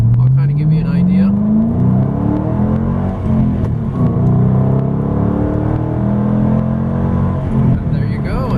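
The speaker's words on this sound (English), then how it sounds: "I'm going to be doing a 0 to 60 acceleration run here as we start from a 0 mile per hour start, and we'll try to get to 60." 2005 Ford Mustang Roush accelerating hard from a standstill toward 60 mph, engine note climbing steadily through the gears with a loud, continuous rumble close by and brief dips at shifts.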